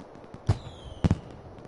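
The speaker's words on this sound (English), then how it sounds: "Why is there fireworks going off?" Fireworks going off in a life-simulation video game: a few sharp pops and thumps, a single burst followed by a quick double burst, fairly close against a quiet background.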